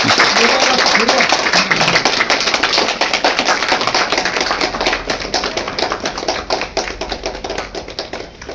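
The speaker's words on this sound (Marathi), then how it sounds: "जोरदार टाळ्या वाजवा सगळ्यांनी" An audience at an inter-college speech competition claps loudly, with dense, sustained applause close by that fades slightly toward the end, and a voice speaks briefly near the start.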